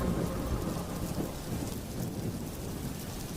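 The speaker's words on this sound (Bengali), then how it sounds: "কাপড় তুলতে তুলতে অমনি হুড়মুড়িয়ে বৃষ্টি চলে এলো।" A sudden downpour of heavy rain hisses steadily with a low thunder rumble beneath it, a dense unbroken wash at moderate level with no voices.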